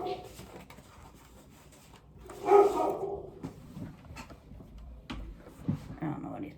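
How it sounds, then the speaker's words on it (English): A single dog bark rings out indoors at moderate distance, followed by faint shuffling and light background noise. "I don't know what he's barking at."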